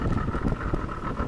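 Wind gusting hard over an open fishing boat with a bimini top near Jacksonville, a steady close roar of buffeting microphone noise through the whole short burst.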